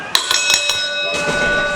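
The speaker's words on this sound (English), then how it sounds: "Ring the bell!" A wrestling ring bell clangs four times in quick succession to start the match, bright metallic strikes with a long ringing tail, followed by crowd noise and an announcer talking.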